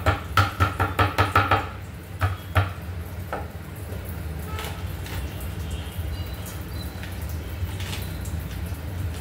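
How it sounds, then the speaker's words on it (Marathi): Ingredients for a ridge gourd chutney being coarsely crushed by hand, with a quick run of about ten close, heavy rhythmic pounding blows followed by a few scattered strikes, then a steady low kitchen hum with no talking. "पण आबडधोबड अशी चेचून घ्यायची"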